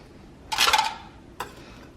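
A spoon stirs salt and pepper into mushroom sauce in a pan, giving one brief scraping clink followed a moment later by a short tap, close and clear with no talking.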